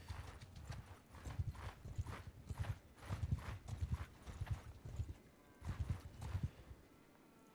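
Many horses' hooves clip-clop across the ground in the medieval combat game Mount & Blade Bannerlord, a dense, steady rolling clatter with pulsing surges, loud and close, with no voices over it.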